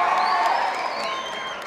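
An audience applauds to welcome a guest onto the stage at a public event, a dense wash of clapping with some cheering and whistles, loud and steady throughout.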